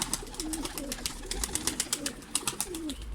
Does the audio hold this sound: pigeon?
yes